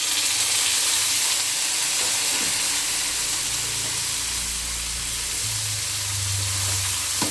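Drumstick pieces are added to onions frying in a pan for dal sambar, a loud steady sizzle and hiss filling the whole stretch, with low stirring scrapes underneath.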